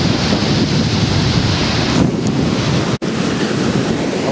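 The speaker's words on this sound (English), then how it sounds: "it's very windy and a chilly 4 degrees outside" Strong, chilly wind roars across the microphone at Old Woman Beach, a lakeside beach in Ontario, a loud steady rush mixed with surf, briefly dipping for a moment before resuming.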